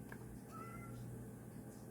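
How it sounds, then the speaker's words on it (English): A house cat meows faintly a few times in a quiet indoor room, soft and somewhat distant against low background noise. "I'm sorry if you hear a lot of meowing."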